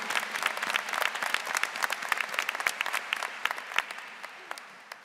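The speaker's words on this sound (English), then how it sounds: "Let's give them a big round of applause." Steady applause rises from an audience at a Virginia Commonwealth University commencement as faculty are honored, dense clapping holding for several seconds before slowly thinning toward the end.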